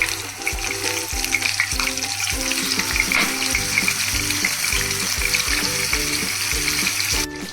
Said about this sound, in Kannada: ಇದರಲ್ಲಿ ನಾನು ಈಗ ಫಿಶ್ಗಳನ್ನ ಒಂದೊಂದಾಗಿ ಹಾಕೋತಾ ಇದ್ದೀನಿ.